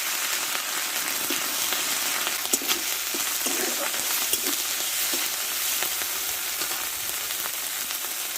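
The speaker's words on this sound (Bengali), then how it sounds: "দিয়ে দেবো আমি এখানে পেঁয়াজ বাটা আদা বাটা এটা দিয়ে একটু ভালো করে কষে নেব" Onion paste and ginger paste frying in a pan with whole cumin and nigella seeds, a steady close sizzle with occasional stirring scrapes and pops throughout, no talking.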